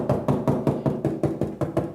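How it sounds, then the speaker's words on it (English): A brush is knocked repeatedly against the paper margin while wet mounting a Chinese brush painting, about ten quick, evenly spaced dull taps in a steady rhythm, close and clear with no talking. "Just brush it on and then knock the corners and the margin."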